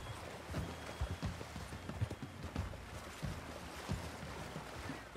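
Horse hooves clip-clop in Red Dead Redemption 2, with a steady rhythmic trot of soft thuds running through a moderate background wash of ambient game sound.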